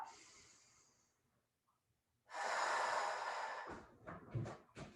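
A sharp, audible inhale during an abdominal exercise, a loud breathy rush lasting about a second and a half, followed by softer breathing noises, close to the listener.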